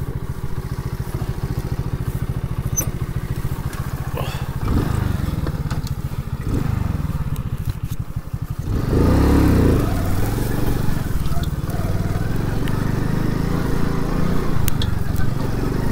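A moped putters along in first gear over bumpy village ground, its small engine running steadily and loud up close with clattering from the rough ride, the pitch and load shifting partway through.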